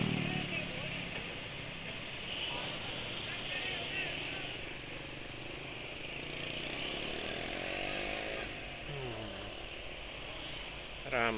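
A Yamaha NMAX scooter with a restricted outer intake pipe runs with a steady, buzzy engine drone that swells slightly as the throttle is opened, close to the listener, with a rise near the end.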